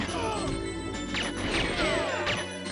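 Gunfire shatters glass in the N64 game GoldenEye 007, a loud crash of breaking glass with bright tinkling shards amid the game's continuous music, no voices.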